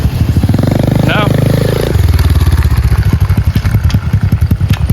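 A 1985 Yamaha XJ700 motorcycle engine running loud and close, a rough, uneven thumping beat that sounds like a single cylinder, with a voice speaking briefly over it.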